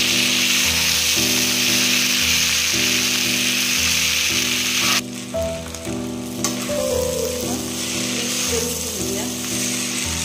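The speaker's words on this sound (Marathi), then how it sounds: "एक चमचा शेजवान चटणी तळून घेऊ" Schezwan chutney frying in a pan for Hakka noodles, a steady loud sizzle with a sustained tonal hum beneath, the sizzle easing and thinning midway as stirring continues.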